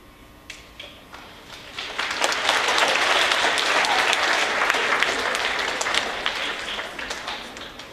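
Applause from an audience at a middle school space project gathering, beginning with a few scattered claps and swelling into a full, sustained round of many hands that tapers slightly toward the end.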